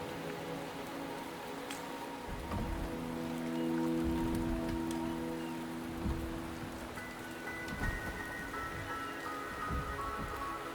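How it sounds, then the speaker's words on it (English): Steady rain falls in the game Wuthering Waves, a continuous soft patter. Sustained musical tones play underneath, and a few heavier thuds mark the rainfall. "The rain is subsiding"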